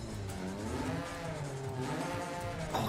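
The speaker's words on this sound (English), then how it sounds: "this car sounds so good" A Stratos in Forza Horizon 5 revving hard, its engine note climbing and falling in smooth sweeps, steady and close with faint tire noise.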